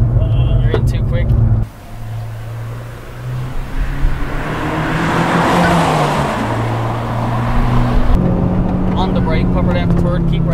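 A 2016 Honda Civic Type R FK2 engine pulls hard under throttle at Mondello Park race track, a loud steady drone with rising and shifting pitch and wind roar, heard from inside the car.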